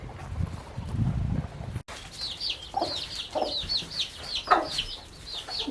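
Several mother hens and chicks cluck and murmur close by in a quick, repeated series of short calls after a brief rustle, while being fed cucumbers.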